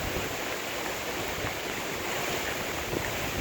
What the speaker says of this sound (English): We're getting wind gusts of about 40 to 50 miles per hour.